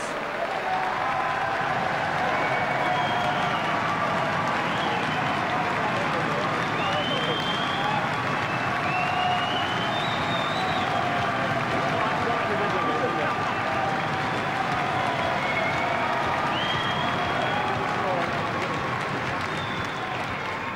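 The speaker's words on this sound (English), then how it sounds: "your vote and applause for Steve Davis" A crowd applauds Steve Davis at a trick billiards exhibition, a dense, sustained wash of clapping that stays loud and even for about twenty seconds.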